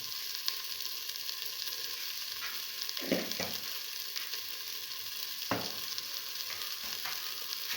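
Scrambled egg and split pigeon pea stew, seasoned with salt and turmeric, sizzles quietly and steadily in a pan while a utensil stirs it, with a few distinct scraping strokes.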